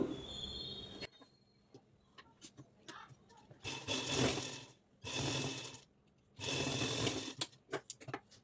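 A sewing machine stitches a plain blouse in two sustained whirring runs, separated by quieter stretches of light clicks and handling noises, close by.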